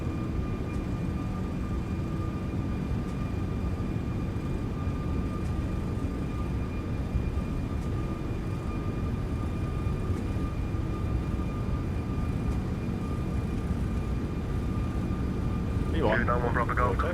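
Airbus A340 jets spooling up for a takeoff roll in a flight simulator, a steady loud roar with a constant engine whine throughout, with radio chatter heard underneath.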